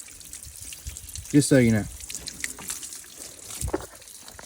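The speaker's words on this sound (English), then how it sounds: "We're getting semi-clear water out of the heater core." Water trickles and splashes as it drains from a Jeep Wrangler YJ heater core during a cooling system flush, a steady faint pour under a brief spoken remark.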